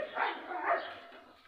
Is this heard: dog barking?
yes